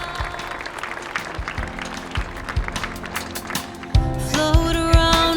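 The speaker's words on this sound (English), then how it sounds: "applåd när de kliver ner där" Applause from an audience as people step down from a stage, steady clapping with scattered louder claps, then music and a brighter crowd swell toward the end.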